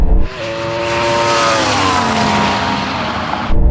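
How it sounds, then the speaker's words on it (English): Ferrari SF90 and Yamaha R1M motorbike drag racing: a loud, close engine roar climbs steadily in pitch through hard acceleration, then cuts off abruptly, with no voices. "Oh, it's on between the Ferrari and the bike."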